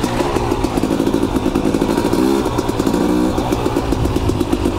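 A KTM 250 XC enduro motorcycle pulls away across the desert, its two-stroke engine loud and close with a rapid, rattling rev that rises and falls as it rides off.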